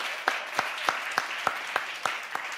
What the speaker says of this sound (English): let's give them a round of applause, Standard Bank